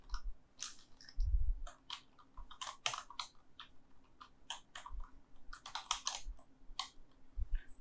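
Keys clicking on a computer keyboard while writing Python code, quiet irregular bursts of taps and clacks close by, with no talk.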